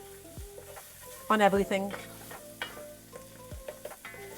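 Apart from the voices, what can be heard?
stirring and frying spices in oil for chickpea stew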